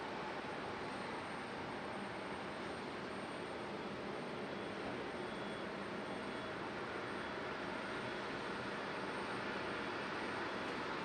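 A passenger airplane arriving from San Juan, Puerto Rico lands at Raleigh-Durham International, its steady distant jet roar held at a constant, moderate level with no voices.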